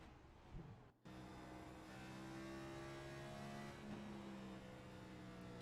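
Race car engine at full throttle in iRacing at Bristol Motor Speedway, with a brief dip and then a steady, loud, sustained high drone that holds close and unbroken.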